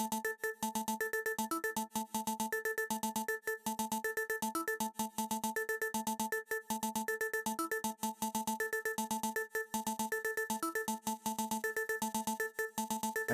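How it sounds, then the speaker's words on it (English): A busy synth lead melody from a beat, played alone as a fast, unbroken run of short repeated notes at a steady driving rhythm, loud and close with no voices. "let me play the lead by itself so you can hear it"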